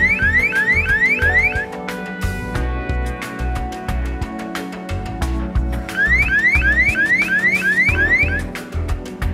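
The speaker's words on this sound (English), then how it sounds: "A light will start to flash and an acoustic alarm will go off as well." Acoustic perimeter security alarm at a photovoltaic solar plant, a loud electronic siren cycling through rapid rising whoops and steady tones in repeating bursts, alone with no talk.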